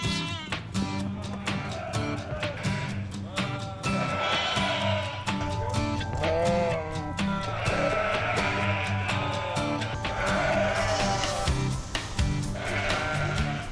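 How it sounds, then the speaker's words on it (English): Sheep and goats bleat repeatedly over a continuous farmyard din, several animals calling at once, some near and loud, others farther off. "We got all the sheep and goats."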